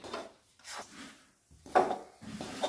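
Wheat flour for panjeeri is stirred in a pan over a high gas flame, giving soft, close scraping strokes in four or five separate bursts with short quiet gaps between them.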